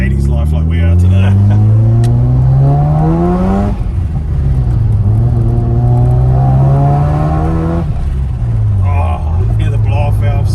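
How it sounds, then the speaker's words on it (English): A car engine revs hard up through the gears, rising in pitch, with sharp hissing bursts of a turbo blow-off valve at each shift; voices are heard too. "Oh, hear the blow-off valve, so good."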